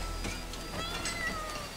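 A kitten in the TV series Outlander meows repeatedly over a low background hum, a few short, thin cries close by with no talk.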